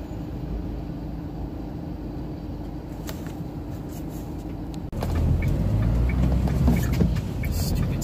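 Traffic rumbles through a busy city street in Camden, London, heard from inside a vehicle as a steady low drone that grows louder and busier halfway through, with passing noises and brief clatter.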